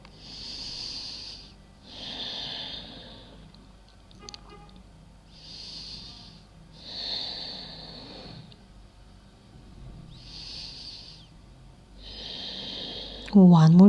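Deep breaths held in a hip-opening yoga pose, slow audible inhales and exhales repeating in an even rhythm, close and soft over quiet background music, with a voice starting at the end.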